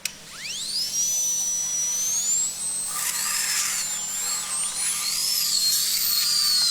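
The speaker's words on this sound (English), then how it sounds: "It's a freaking dental drill." A high-pitched dental drill whines from a scene in The Orville, its tone sweeping upward and then wavering steadily, with a faint low hum beneath and no talking.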